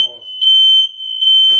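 A smoke alarm set off by cooking shrills in a piercing, steady high-pitched tone that pulses in long bursts, loud and close, with brief voices at the start and end.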